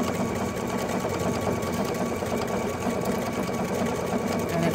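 A sewing machine stitching steadily, a fast continuous rattling hum at even volume throughout with no voices.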